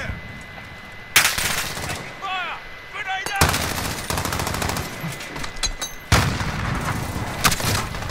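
Rapid gunfire bursts in a Call of Duty Modern Warfare team deathmatch, with several loud, sharp volleys separated by brief quieter gaps and faint electronic chirps in between.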